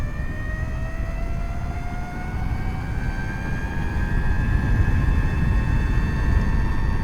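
A 60-volt electric Mototec or ETM vehicle on a top speed run, a loud, steady rush of wind and motor noise with a whining tone slowly climbing in pitch throughout.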